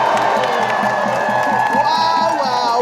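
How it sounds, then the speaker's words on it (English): Loud crowd cheering and whooping at an outdoor rally against Elon Musk where members of Congress speak, a dense continuous roar of voices with shouts and some clapping, near and sustained throughout. "Look at this crowd."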